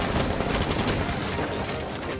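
Dense, rapid gunfire from a Rainbow Six Siege match crackles continuously and loudly, with bursts blurring into one another and no clear pauses.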